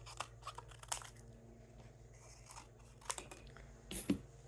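Scissors cut a piece from a cardboard tea box in a handful of crisp, close snips and crunches spread over a few seconds, faint against a quiet room.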